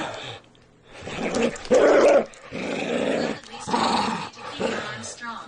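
A dog growls and snarls repeatedly while playing a tug-like game, rough rumbling bursts rising and falling close by, with a person talking over and between the growls.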